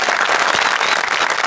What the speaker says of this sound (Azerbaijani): Daha gürültülü alqışlarla.